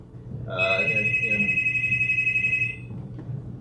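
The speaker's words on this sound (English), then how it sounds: "Whose phone is that?" A phone rings in a room, one sustained electronic trill lasting about two seconds that rises over a low background murmur, with faint voices nearby.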